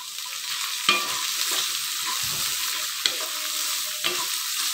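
Onion and fenugreek fry in a pan with a constant close sizzle, broken by a few sharp knocks from stirring and no speech.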